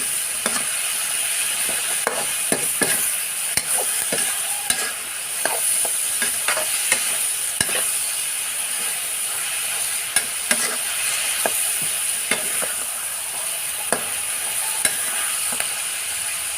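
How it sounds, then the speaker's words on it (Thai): Mixed vegetables are stir-fried with oyster sauce in a pan. A loud, continuous sizzle runs throughout, broken by frequent scraping and tapping of a spatula as the food is tossed. No one talks. "แล้วก็ซอสหอยนางรมค่ะ ผัดให้เข้ากันค่ะ"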